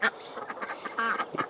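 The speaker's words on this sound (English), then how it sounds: "Here's the chicken and the little ducklings." Little ducklings kept alongside a chicken on a farm plot give a rapid run of short, bright quacking calls, close by and fairly loud, with no talking.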